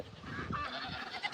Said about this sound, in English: Look at those beautiful ducks.